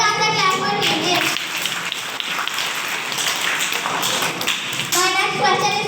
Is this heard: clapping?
yes